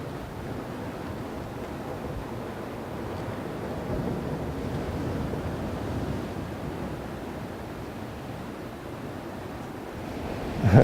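Wind blows across a beach, a low, steady rumble buffeting the microphone with a soft surf-like wash beneath, swelling slightly midway and ending in a brief gust.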